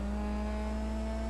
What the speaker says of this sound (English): Hear those high revs before we switch gears